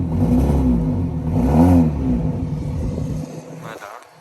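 A BMW 330e hybrid's engine runs close by with a deep, rumbling idle that swells in one short rev and then drops off near the end, with talk over part of it.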